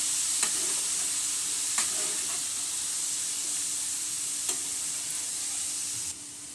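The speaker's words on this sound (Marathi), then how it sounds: "आपण याच्यामध्ये हळद, हिंग आणि लसूण टाकलेला आहे. ते आता आपण याच्यामध्ये मिक्स करून घेऊया." Turmeric, asafoetida and garlic being mixed into hot oil in a pan with the gas turned off, a soft steady hiss and sizzle broken by a few sharp scrapes of a spoon, close but quiet, no speech.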